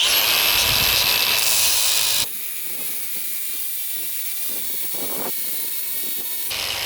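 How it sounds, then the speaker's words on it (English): Flap disc on an angle grinder smoothing a cut metal bar during a Chevy Duramax tuner install: a loud, steady high whine of abrasive against steel, then a shift to a lower droning grind that runs on continuously, with no talk. "we need to take the flap disc and smooth this thing out"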